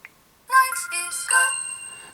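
LG G2 smartphone ringtone of a boys' choir singing, bright boys' voices in chiming harmony that starts after a short pause and carries on loud, alone and without talk.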